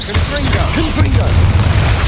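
Confringo fire blast spell from Hogwarts Legacy, heavy booming low rumble with crackling bursts, mixed with game voices and chatter throughout.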